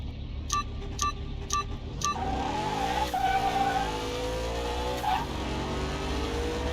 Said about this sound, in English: He's got that LS engine in there.